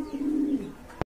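A grizzle pigeon gives a single short, soft coo, close and alone, ending with a brief click.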